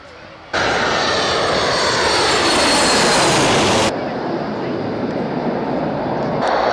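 A jet airliner takes off at Birmingham Airport, its engines bursting into a loud, broad roar that holds for a few seconds and then eases to a steady, more distant rumble.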